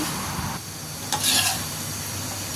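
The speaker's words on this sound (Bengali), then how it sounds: "এভাবে কিছুক্ষণ পর পর হালকা করে ভাজিটাকে নেড়ে নেব।" Sliced okra fry stirred now and then in a hot pan: a continuous sizzle with gentle scraping and a short bright metallic scrape around the middle, close and fairly loud, with no talking.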